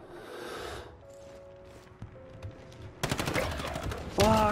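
Rapid automatic gunfire in a video game shooter, a dense burst of close, loud shots in the last second and a half, after scattered quieter game noise and a few isolated shots.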